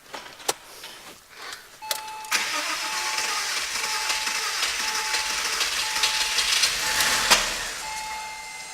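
A 2002 Porsche Boxster S 3.2-litre engine cranks with a few sharp clicks, then catches and runs at a steady idle after intake manifold installation, a close, even mechanical drone with a faint tonal whine.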